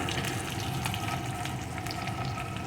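Spices with turmeric, chili powder and salt frying in a pan for a fish curry, giving a continuous, even sizzle that holds steady at close range without pause.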